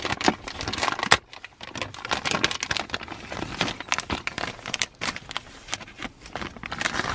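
A ProClip center console phone mount for a 2019-2023 Toyota RAV4 is unpacked from its plastic bag, with loud, close crinkling, rustling and tearing in irregular bursts and no talking.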